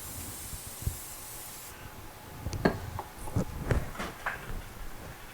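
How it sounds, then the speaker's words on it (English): A hissing spray bursts from an aerosol can of cooking spray greasing a bread pan, followed by a few short clicks and soft handling noises nearby. "So we have our cooking spray"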